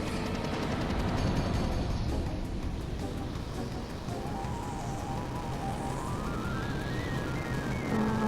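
Explosions and rumbling battle effects from the Final Fantasy VII video game, a dense, continuous roar of blasts and crackling at steady loudness, with a rising tonal effect partway through and no talking.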